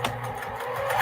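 A sewing machine stitching a crumb quilt block runs with a steady, fast mechanical whir and rattle throughout, close and continuous with no talk.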